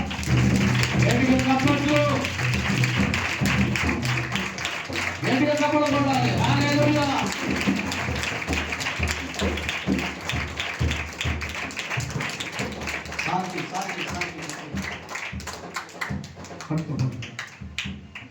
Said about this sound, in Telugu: చప్పట్లు పడదాం